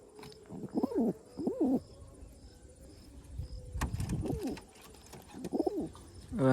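Domestic racing pigeons coo in soft, rounded bursts, several low throaty calls spaced apart, fairly faint against quiet outdoor background hiss with a few clicks and rustles.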